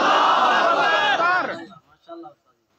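A large crowd at a religious gathering roars together in a loud unified shout answering a Takbir call, holding for over a second before tapering off into a few faint scattered voices.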